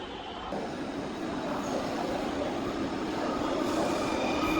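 Metro trains in Dhaka, one running alongside another, a steady broad rumble and rushing roar that swells slightly as it goes, with faint high whine, heard from inside with no talking.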